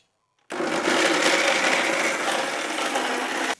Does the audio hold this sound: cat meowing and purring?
no